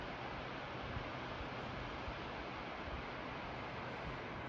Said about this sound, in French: Les cascades que vous entendez.